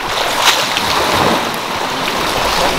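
Ocean waves washing onto a white sand beach on an island, a loud continuous close rush of surf and water with no voices.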